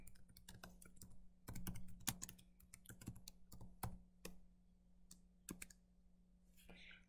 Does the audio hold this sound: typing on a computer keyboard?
yes